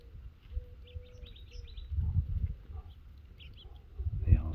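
Small birds at a feeder give faint, scattered high chirps over a soft, rumbling outdoor background, with a few louder thumps and rustles near the end.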